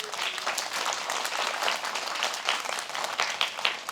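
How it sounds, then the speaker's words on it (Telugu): An audience at a children's health talk claps hands in steady, dense applause that carries on throughout, fairly loud and without talk over it. "so clap hands"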